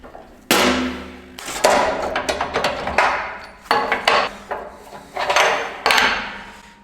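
Fingers being pulled from a sheet metal brake in a fabrication shop for a custom fan shroud on an LS-swapped Defender, a series of sharp metallic clanks and knocks, loud and close, about seven separate hits at uneven intervals.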